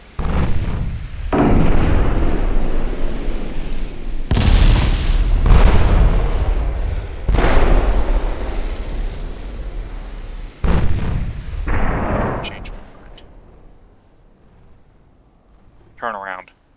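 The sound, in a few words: 1.1-inch naval guns firing in Ultimate Admiral: Dreadnoughts video game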